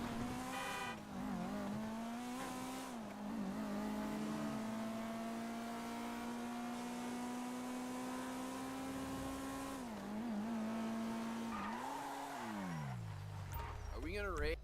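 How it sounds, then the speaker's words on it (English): A stock car races in Grand Theft Auto, its loud, close engine droning steadily with pitch dips at gear shifts near the start and middle, then a falling revving sweep toward the end, with possible faint tire squeal. "I will do some stock car racing"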